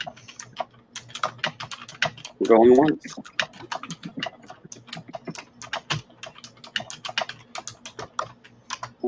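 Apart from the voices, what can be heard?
typing on a computer keyboard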